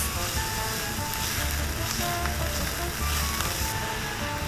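Onions sizzling in hot oil in a pan on a stove element, a steady close crackling hiss that holds at an even level from start to end, with no talking.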